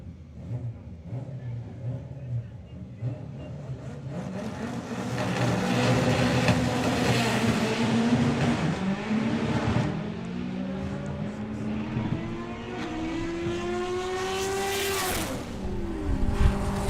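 Two quick Honda drag cars launch and race down the strip, engines revving and rising in pitch as they accelerate, loud and sweeping past with a brief tire squeal.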